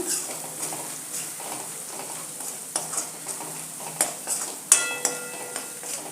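Spices, chilli powder and turmeric for pav bhaji are stirred in a sizzling pan, a steady fry hiss under soft scraping and a few sharp clinks of a spoon against the metal, close up, with no speech.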